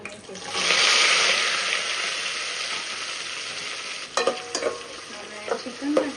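Chopped onion, tomato and curry leaves hit hot oil for a fish curry with a loud sizzling rush that gradually settles into steady frying, broken near the end by a few sharp stirring clatters.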